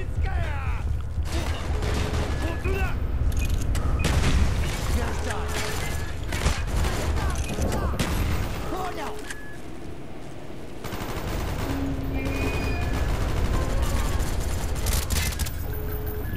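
Rapid gunfire in Call of Duty: Black Ops, with sustained automatic bursts and clattering shots across a busy battlefield mix that keeps going for most of the stretch and eases briefly midway.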